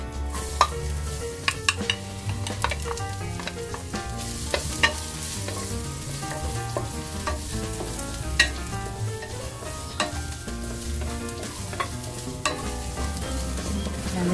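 Garlic frying in a pan, a steady crackling sizzle joined by frequent clicks and scrapes of a stirring utensil throughout, close and continuous with no speech.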